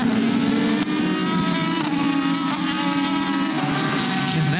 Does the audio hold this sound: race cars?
yes